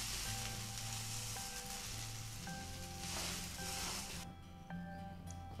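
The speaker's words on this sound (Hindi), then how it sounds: "तो हम इसको दूसरी साइड से भी पलट कर सेक लेते हैं" A masala uttapam sizzling on a hot pan after being flipped, giving a continuous close frying hiss with faint crackles and a low background hum, then quieting near the end.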